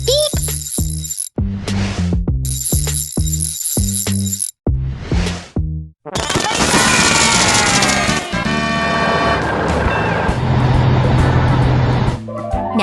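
Cartoon bulldozer in a children's puzzle game giving bright electronic reversing beeps in short repeated bursts, followed by a busy burst of jingling game music and effects.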